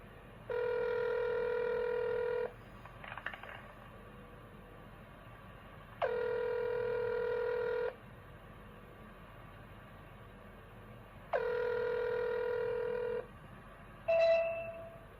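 A telephone system sounds long, steady electronic tones of about two seconds each, repeated at intervals, with brief keypad-style beeps between them on a quiet line.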